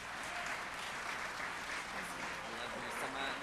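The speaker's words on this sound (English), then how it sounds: "Can we give them another round of applause?" Audience applause filling the hall at a community college student recognition and awards ceremony, a dense, even wash of clapping that holds steady throughout, fairly faint and distant.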